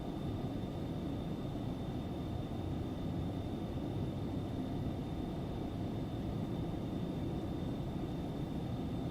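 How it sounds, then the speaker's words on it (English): Aerobask Phenom 300 business jet in X-Plane 11 rolling down the runway for takeoff, a steady, loud broadband engine roar with a faint high whine, constant throughout with no talk. "Let's rotate. Get the jet off the ground, shall we?"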